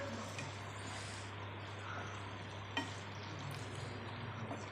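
Okra frying in a pan of spiced masala while being stirred, a steady close sizzle with a few soft scrapes and clinks of the spoon against the pan.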